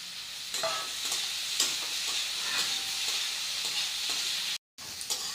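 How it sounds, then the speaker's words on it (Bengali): Vegetables fry in a pan with salt, turmeric powder and chopped tomato, giving a close, steady sizzle punctuated by scraping stirs, with a brief dropout near the end. "দেখো আমার সবজিগুলো ভাজা হয়ে গেছে"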